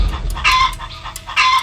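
Chickens in a coop squawk and cluck in agitated bursts after a fox gets in, in an animated cartoon. The cries are close, loud and repeated, with short pauses between them.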